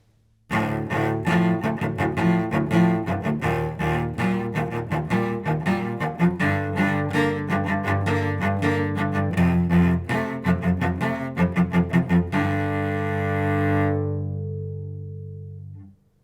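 Low bowed cello strings played in a fast, rhythmic repeated pattern, bass-like and steady, ending with a sustained note that fades out.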